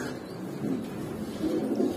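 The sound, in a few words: tulip pigeons cooing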